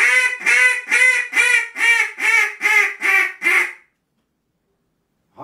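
A hand-blown duck call whistle sounds a series of eight loud, evenly spaced quacking blasts, each nasal and raspy, followed by silence and the start of another call at the very end.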